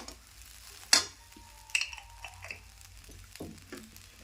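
Food in a pan stirred after a splash of vinegar, a quiet low sizzle punctuated by a few sharp clicks and scrapes of a spoon against the pan, close and sparse.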